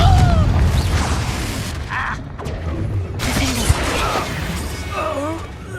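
A Confringo fire spell cast in Hogwarts Legacy bursts with a boom and a crash among mechanical clatter and game effects, loud and close, with a character's voice speaking during the clip.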